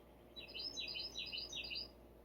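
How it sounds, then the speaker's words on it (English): Small birds sing in a quick burst of high, bright chirps and trills, faint and somewhat distant over a soft background hiss. "The birds are singing."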